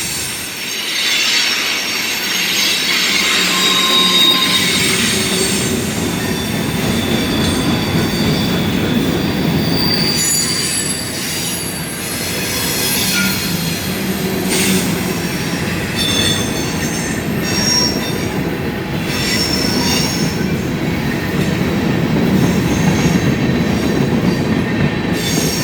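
A CSX Q415 freight train rolls slowly past the Point of Rocks station, its wheels squealing in long, shrill, shifting tones over a close, continuous rumble of railcars and faint clacking, with no voices.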